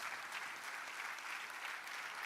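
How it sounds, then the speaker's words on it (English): Audience at a university commissioning ceremony applauding, a dense, steady wash of many hands clapping together at moderate distance, continuous for the whole stretch with no voices standing out. "Please, a round of applause."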